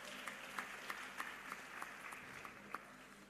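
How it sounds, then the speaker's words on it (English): Applause from a conference audience at an International Women's Day event, a steady, fairly distant wash of clapping with a few sharper claps standing out, fading slightly toward the end. "Please give us a round of applause."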